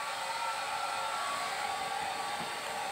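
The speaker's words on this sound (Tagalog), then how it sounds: "Kita nyo naman, feel na feel niya ang dryer." A hair dryer blows continuously close by, a steady, even rushing whoosh with no talk over it.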